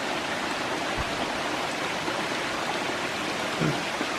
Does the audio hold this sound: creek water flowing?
yes